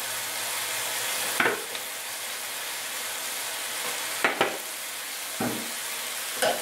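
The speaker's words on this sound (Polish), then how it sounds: "Wszystko dokładnie mieszamy." Hoisin sauce frying in a pan while being stirred, a steady loud sizzle broken by several short scraping strokes of the utensil spaced a second or more apart, with no talking.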